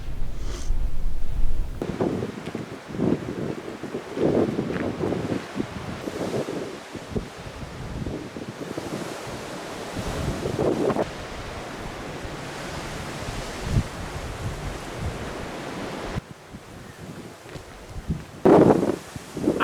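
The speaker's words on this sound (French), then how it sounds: "il y a énormément de vent" Strong wind buffets the microphone at the summit of Pic Vergès in the Fenouillèdes, roaring in uneven gusts that swell and ease across the whole stretch, close and loud, with no talking.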